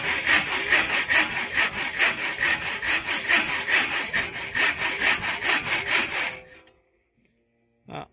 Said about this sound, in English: Got the saw here. This is a piece of pressure-treated 2x4.